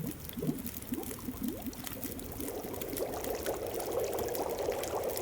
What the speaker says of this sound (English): We may as well heat up the rosehip tea.